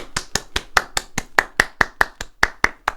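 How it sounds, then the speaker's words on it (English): A single person claps slowly and steadily, about fourteen crisp, close hand claps at an even rhythm with nothing else around them. "So Brent Weeks, here is Leonardo DiCaprio clapping for you."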